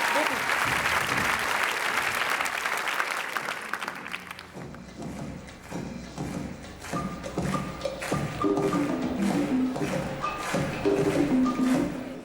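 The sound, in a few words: audience applause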